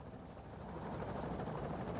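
A helicopter in the strategy video game Afghanistan '11 gives a steady, faint rotor drone and engine hum that swells slightly and holds, with no talk.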